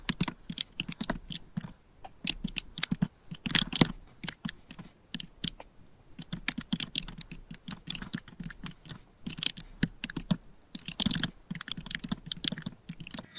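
Quick bursts of typing on a computer keyboard while entering a chatbot prompt, close and crisp key clicks in uneven runs with brief pauses between phrases, no voices over them.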